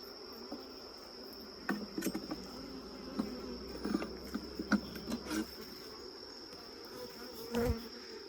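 Honeybees buzzing around an open hive during a brood inspection, faint and diffuse, with scattered clicks and handling knocks from the hive work.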